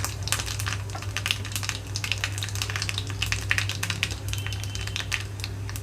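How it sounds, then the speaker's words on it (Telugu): Tempering seeds and dry red chillies fry in hot oil in a pan, giving a steady close crackle and sputter with sharp popping ticks over a low hum. "ఆయిల్ అంతా హీట్ అయిన తర్వాత తాలింపు గింజలు అన్నీ వేసుకుంటున్నాను అలాగే ఎండుమిరపకాయలు కూడా"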